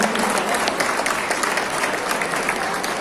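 A crowd at a village celebration in Ismayilli, Azerbaijan, breaks into loud, sustained applause, a thick, even roar of many hands clapping close by that holds steady for the whole stretch without pause.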